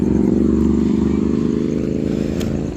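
Motorcycles pass on a road at night, their engines chugging steadily and close, with a rattling clatter underneath, fading slightly toward the end.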